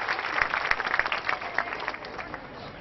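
Enthusiastic crowd applause at a centenary festival honoring a student, dense clapping with distinct sharp hand claps, strongest early and gradually thinning toward the end.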